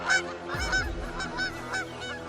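Honking goose-like calls stand in for swans caught in a net crying for help, a run of nasal, repeated honks close and fairly loud, with no speech over them.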